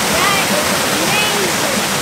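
Heavy water roars steadily over a dam after a big rain, a loud, continuous broadband rush that fills the whole two seconds with a faint voice beneath it.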